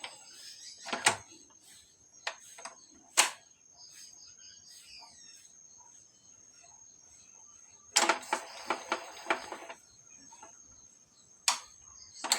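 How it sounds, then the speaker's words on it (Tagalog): An Epson L121 inkjet printer runs a head cleaning cycle. Sharp mechanical clicks and brief whirring bursts come at irregular intervals over a quiet background, with a denser cluster of rattling motor movements in the middle. "antayin lang natin yung printer na mag-steady. Nagpe-perform siya ng head cleaning."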